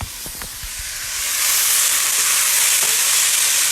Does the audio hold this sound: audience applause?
no